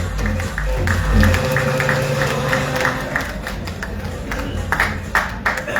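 An audience at a Mumbai press event applauds as an actor is welcomed on stage, with steady scattered clapping and crowd murmur that continues under a low rumble.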